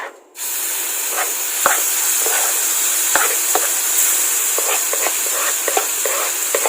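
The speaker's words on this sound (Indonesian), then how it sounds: "Sekarang giliran kita tumis bumbunya." Spice paste sautéing in hot oil in a home kitchen: a steady bright sizzle and hiss fills the whole span, with scattered sharp pops and utensil taps, close and loud, no talk.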